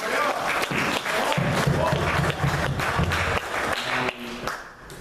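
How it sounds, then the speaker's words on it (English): At a summit conference, an audience gives a welcoming round of applause for an arriving speaker, a busy, moderately loud clapping texture mixed with voices that thins out near the end. "give him a round of applause"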